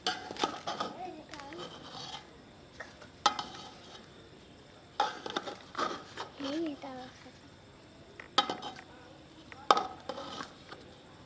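Jungli vegetable pulao is stirred in a pot, a spoon scraping and clinking against the metal in irregular bursts, with faint voices and a low kitchen background.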